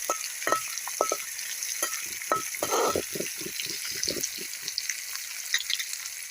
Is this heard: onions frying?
yes